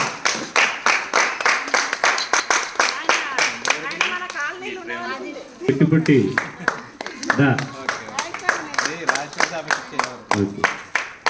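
An audience claps in quick rhythmic bursts at a Sankranti rangoli competition in Ganesh Nagar, Jagtial, the sharp claps running nearly throughout while someone speaks over them on a microphone.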